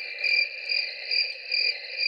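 A handheld noisemaker mimics cricket chirping, producing a clean, repeating pulsed trill that rises and falls about twice a second against otherwise silent surroundings.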